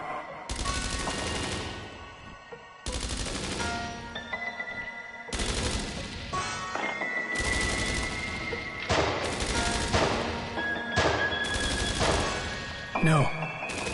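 Automatic gunfire rattles through an ambush shootout in the PS5 game Dreams of Another, long loud sustained bursts broken by short pauses, close and dense, with some scattered metallic impacts.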